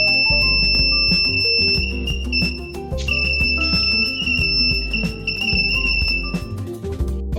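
A high, steady electronic beeping tone from a simple fire detector circuit's buzzer sounds continuously over loud, rhythmic background music with a brief break in the middle.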